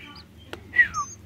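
White-breasted woodswallow (kekep babi) chicks, three to seven days old, give a few short, thin chirps at close range, one rising call standing out over a low steady background hum.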